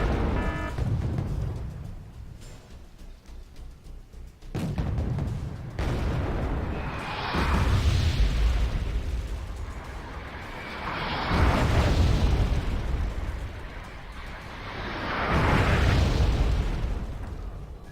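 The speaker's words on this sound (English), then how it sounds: "Heavy artillery now landing." Heavy artillery shells land in the video game Wargame: Red Dragon, a series of loud, rumbling explosions that swell and fade in repeated waves every few seconds, with sharp bursts and lingering booms throughout.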